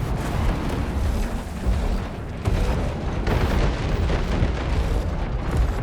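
Missiles explode in a dense, loud barrage in War Robots Frontiers. Overlapping booms and bursts roll on with almost no pause throughout.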